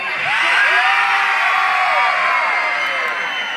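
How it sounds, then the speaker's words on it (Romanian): A large crowd screams and cheers in a sustained, loud roar with high shrieks and whoops rising over the continuous din. "vreau să facem un concurs să vedem cine țipă cel mai tare în seara asta"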